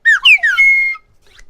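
A slide whistle plays a few quick pitch-bending swoops that then hold one long, loud sustained tone, ending with a faint trailing blip; no talking.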